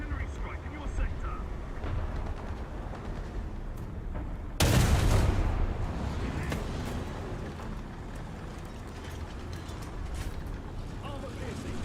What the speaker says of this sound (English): Artillery strike in your sector.